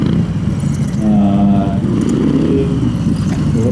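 A Fat Bob 114 cruiser motorcycle engine rumbles steadily and loudly up close, with a low throbbing tone throughout and no voices.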